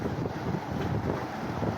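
Strong seaside wind buffeting the microphone in a constant low roar and rumble, close and loud, with no talking.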